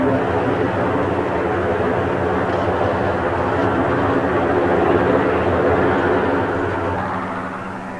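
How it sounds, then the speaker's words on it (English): Military aircraft roar low over ships in the Falklands War in 1982. The heavy, steady engine noise is loud and near throughout and fades slightly toward the end. "the planes swept low over the ships"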